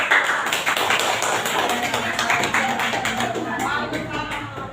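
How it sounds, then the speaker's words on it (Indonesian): Classroom students clap together for a presenting group, a lively burst of close, crisp applause that continues steadily and thins slightly toward the end. "tepuk tangan untuk kelompok satu"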